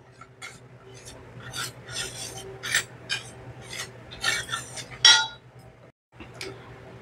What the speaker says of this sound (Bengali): এখানে সব উপকরণগুলো একসাথে মিলিয়ে নিব